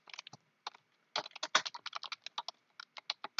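Rapid, uneven keystrokes on a computer keyboard as a username is typed, close and crisp, with a brief pause before a denser burst of clicks and no one speaking.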